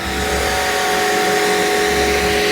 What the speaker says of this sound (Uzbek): Eng qizig'i, motor ovozini eshitdinglarmi yo'qmi? Yana bitta eshittirib ko'rsataman mana.